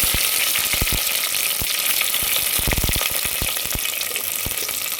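Whole spices for a vegetarian curry crackle in hot oil with a dense, loud sizzle. Sharp pops burst out irregularly, bunching together in the middle, with no voices.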